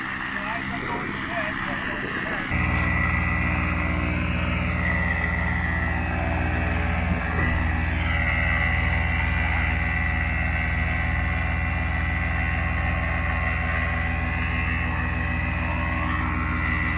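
A paramotor propeller engine, being broken in, drones steadily nearby, a loud buzzing hum that holds for the whole stretch after a brief rougher start.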